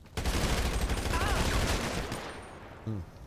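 Gunfire during the Cayo Perico Heist in GTA Online: rapid, loud bursts of automatic fire hammering close by, thinning out near the end, with a brief voice cutting in.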